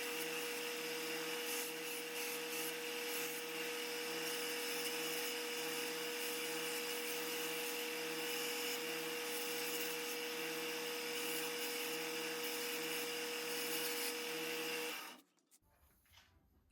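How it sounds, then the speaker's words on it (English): A conditioning belt on a belt sander polishes steel scissors, a steady loud abrasive hiss and whir with a motor hum that runs continuously, then cuts off abruptly near the end. "I've got a conditioning belt. Let me try that and see how that does."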